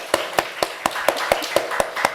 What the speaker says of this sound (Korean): 뭔가 허전하다 했더니 박수를 안 쳤어요.